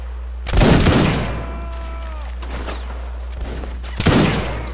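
Reenactors of the 44th (East Essex) Regiment of Foot fire muskets in a line battle, one loud near shot followed by scattered farther reports and a second sharp blast near the end, with a brief shouted voice between them.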